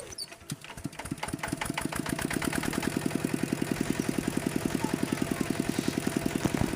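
A walk-behind rice field plowing machine's engine cranks and catches, then settles into a steady, loud, rapid chugging rhythm of evenly spaced thumps that runs close by to the end.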